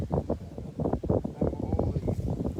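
Low rumbling wind buffets the microphone continuously, a loud, gusty roar with people talking underneath.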